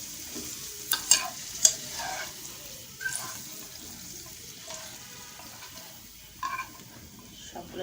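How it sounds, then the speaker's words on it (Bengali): Cashew nuts and raisins frying in a pan, with stirring scrapes and a few louder clinks over a steady low sizzle. "আমি এটা ভালো করে ভেজে নেব, একটু হালকা ভেজে নেব"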